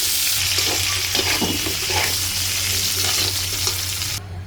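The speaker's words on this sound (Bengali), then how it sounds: "ফুলকপি ডিম ভাজা শেষ, এখন আলু ভাজতেছি।" Potatoes frying in a pan give a loud, continuous sizzle with crackling and occasional stirring scrapes, close by and with no talking.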